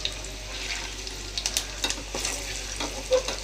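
Eggs fry in hot oil for a green egg curry, a soft steady sizzle with a few crisp pops and light utensil scrapes, close and with nobody talking.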